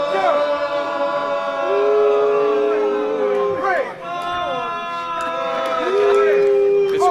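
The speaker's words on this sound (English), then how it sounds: "Crowd are letting Dreissker know exactly what they think of him." A wrestling crowd at a Passion Pro event jeers and shouts at a wrestler, a dense mass of voices with rising whoops and calls, loud and close, swelling and dipping across several seconds.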